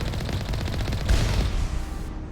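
Rapid gunfire from Mass Effect Legendary Edition, a sustained stream of dense shots at steady loudness with a heavier burst midway, no voices over it.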